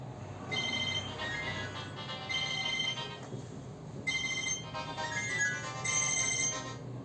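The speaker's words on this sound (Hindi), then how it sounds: "फोन साइलेंट कर लो इसे।" A mobile phone ringtone plays a bright repeating melodic tune, fairly faint and steady throughout, interrupted by a brief gap midway, during a classroom lecture with no talking over it.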